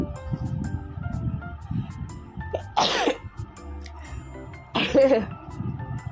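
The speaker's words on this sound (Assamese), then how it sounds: "ভইচ অভাৰ দি থাকোঁতে কাহে উঠিছে।" Two sharp coughs burst out about two seconds apart, loud and close, breaking through quiet background murmur.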